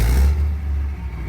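A European diesel tank engine idles after a cold start with a hard, deep rumble, loud and close, a heavier surge in the first moments easing into a steady throb.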